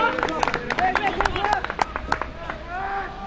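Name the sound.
applause from the Paichai University bench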